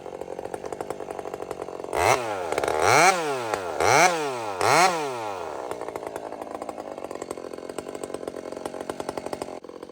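Chainsaw idling with a rapid putter, then revved hard four times in quick succession as it bites into a tree cut from the high side, before settling back to idle; close and loud, no talk.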